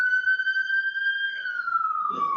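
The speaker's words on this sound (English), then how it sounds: "Fucking sirens" A single siren wails in a played-back video, a clean sustained tone gliding slowly upward then falling, with faint background noise near the end.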